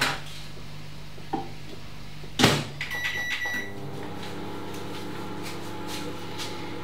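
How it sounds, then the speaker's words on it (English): A microwave oven is shut with a sharp clunk and starts up, its steady electric hum settling in after a few beeps and clicks in a home kitchen. "So I'm just gonna bung this in the microwave for a minute or so."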